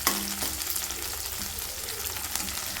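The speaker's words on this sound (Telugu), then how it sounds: "కలియబెట్టాలి" Coriander and curry leaves being stirred into an egg masala curry with groundnuts, a steady broadband sizzle of frying with soft scraping strokes throughout, no voices.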